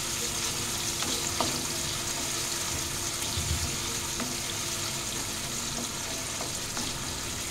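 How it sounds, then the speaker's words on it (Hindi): Tomatoes fry over a high flame in a pan for a simple home dal recipe, giving a steady, close sizzle that runs throughout with faint clinks of stirring and no talk. "अभी फ्लेम को हाई कर दिया कि टमाटर को फ्राई करना है हमें।"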